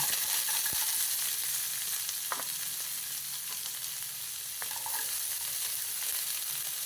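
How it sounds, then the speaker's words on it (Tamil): Onion and ginger sauté in a pan for a banana leaf masala idli, with a steady, fairly loud hissing sizzle and only a couple of brief stirring clicks. "ஆனியன் வதங்கட்டும்."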